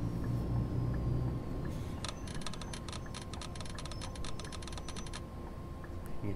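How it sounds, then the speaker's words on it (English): Rapid rattling clicks of a bus's ABS brakes pulsing under hard braking on a slippery road in the OMSI 2 simulator, MAN A21 bus, a dense burst of ticks lasting about three seconds over a steady low engine hum. "can hear the ABS going off"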